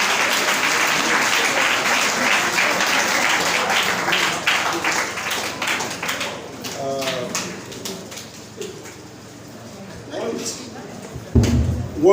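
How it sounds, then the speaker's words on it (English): Audience at a founder's day gala award night giving presenters a round of applause, a dense sustained clapping that gradually fades and thins out, followed by a few scattered noises and a voice speaking. "can we have another round of applause for these presenters?"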